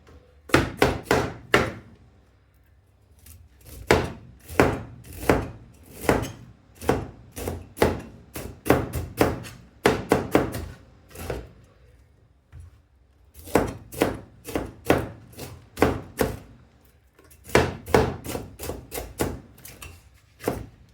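A knife chopping cauliflower on a board for a vegetable soup: rapid, close rhythmic thunks come in clustered bursts of several strokes, separated by short pauses, loud and crisp with no talking.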